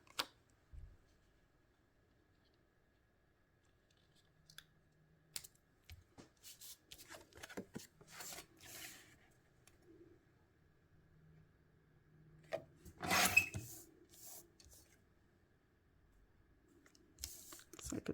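Scrapbook paper being trimmed in short bursts, with quiet snips and scrapes spaced out between stretches of near silence and one louder cluster of rustling cuts.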